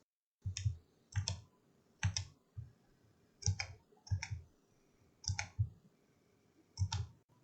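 Computer mouse clicking while working in CAD software to design a fidget spinner, sounding as sharp paired clicks in a steady irregular series of about eight bursts, close and alone with no talk.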